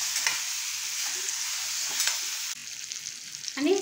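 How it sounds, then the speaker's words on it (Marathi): Spice tempering with asafoetida crackles and sizzles in hot oil, a continuous frying hiss, then chopped mango goes into the pan partway through with a sudden softer, shifting sizzle and a stir. "फोडणी छान अशी तडतडली ना की मग आपण हे आंबे आहेत ना ते आपल्याला ॲड करायचे आहे"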